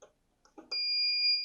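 A steady two-tone electronic alarm beep sounds from the alarm board of a FocusInc Cobra-69S single-pass direct-to-packaging corrugated carton printer, following a few brief clicks and handling noises, then holding loud and continuous to the end.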